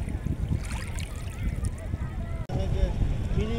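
Waves wash steadily against a lake shore at a spot called Mini Cox's Bazar, a continuous broadband rush mixed with wind buffeting the microphone, with faint voices near the end.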